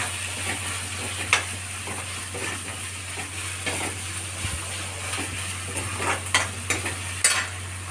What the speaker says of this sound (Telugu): బాగా వేయించుకోవాలి అన్నమాట. ఫ్రై లాగా